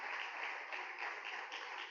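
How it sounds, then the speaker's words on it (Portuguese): Audience applause for a panel speaker at an agrifood open day event, a steady dense wash of clapping hands sustained evenly throughout, fairly distant and moderately loud. "Uma salva de palmas."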